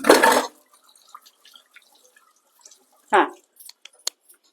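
Hands being washed under running water in a home kitchen, with two short splashing bursts separated by a quiet stretch of faint drips.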